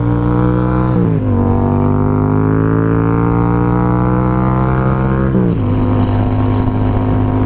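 A motorcycle engine drones loud and steady at close range, its pitch dropping twice as the gearing shifts, sustained throughout with no talking.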